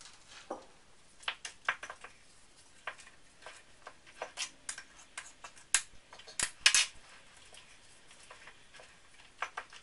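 A spoon mixes dark chocolate chips through banana muffin batter in a bowl, with irregular soft taps and clinks against the bowl, some louder knocks scattered through, and no talking.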